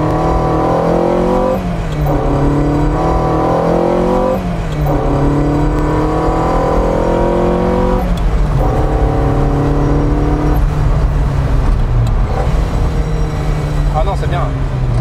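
A Ferrari 308 GTB Vetroresina V8 drives steadily under a constant engine drone, with its pitch rising and falling through several gear changes while someone talks over it throughout.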